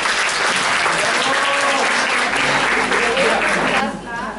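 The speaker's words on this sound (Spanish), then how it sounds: "Muy bien, un aplauso entonces." A room of teachers at a summer-school workshop breaks into loud, dense applause that holds steady throughout, with voices and cheers mixed into the clapping before it eases slightly at the close.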